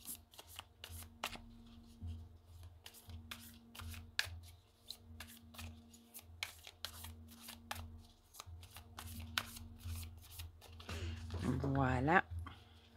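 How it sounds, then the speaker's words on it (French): Oracle cards with a smooth finish are shuffled in repeated soft riffling bursts, close and fairly quiet, over a low background hum, with a brief louder flurry near the end. "Elles ont un super fini ces cartes. J'aime bien le toucher qu'elles ont. Elles se mélangent super bien."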